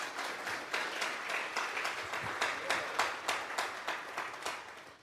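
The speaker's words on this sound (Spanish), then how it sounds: "Denle un fuerte aplauso pues al Señor." A church congregation applauds at a Sunday service, a fairly faint, continuous patter of many hands clapping in a roughly steady rhythm throughout.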